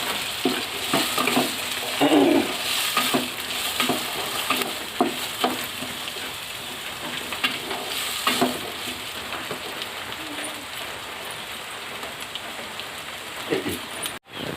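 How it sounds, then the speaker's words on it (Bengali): Potato pieces and bay leaf mixed and fried for flattened-rice pulao make a continuous, rain-like sizzle with repeated stirring scrapes and knocks, loud and close, ending abruptly. "এবার এগুলো সুন্দরভাবে মিক্স করে ভাজবো, একটু লাল লাল করে।"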